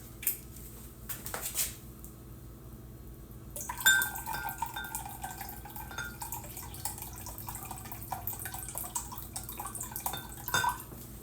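Rice vinegar poured into a measuring cup in a kitchen, a soft continuous liquid trickle with faint splashes and a light clink of glass, heard close and quiet.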